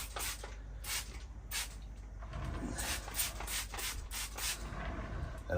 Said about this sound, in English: I'm just going to give the deadwood a little spray, let it dry off a bit.